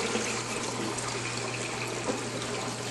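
Water draining steadily through an ESOPs dual flow overflow box down to the sump of a saltwater fish tank, a constant soft rushing trickle with a low steady hum beneath it.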